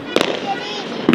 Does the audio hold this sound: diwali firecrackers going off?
yes